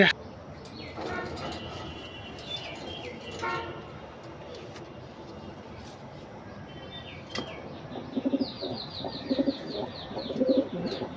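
A high flyer pigeon in a loft coos in short low bursts toward the end, with chirps and a distant horn-like tone nearby, while someone speaks over much of it.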